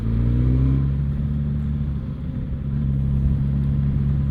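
Suzuki GSX-S1000 GT motorcycle pulling hard in fourth gear from about 20 mph, a loud steady engine rumble with layered low harmonics that holds throughout with a brief dip midway.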